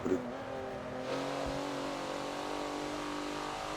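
Race car engine held at full throttle in Forza at the Hockenheimring, a steady high-revving drone across a kerb, loud and continuous with a brief thump early on.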